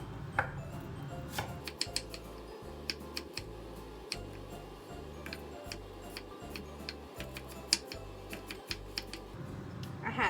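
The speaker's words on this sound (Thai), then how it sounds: "อันนี้นี่จะหั่นเป็นลูกเต๋าค่ะ" Steady knife chops dicing red sausage against a cutting board, repeating at a quick, even pace with small clicks scattered throughout, close by and moderately loud.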